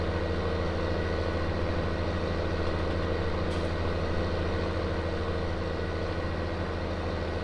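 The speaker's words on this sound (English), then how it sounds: "Give you guys just a few seconds to hear the tractor." A tractor engine idles in Farming Simulator 19, a constant low diesel rumble and drone that holds steady and fairly loud throughout with no change in revs and no talk.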